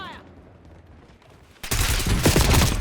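Gunfire in Call of Duty Black Ops 6 multiplayer: after a quiet stretch of faint ambience, a loud, dense burst of rapid automatic shots erupts close by and keeps going to the end.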